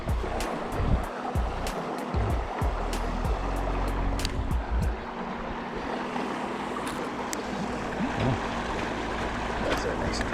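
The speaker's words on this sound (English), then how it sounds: "There's actually 2 streams are running from both sides here." Two streams rush down from both sides of a brook-trout river, a loud, continuous broadband wash of flowing water with brief low voices mixed in.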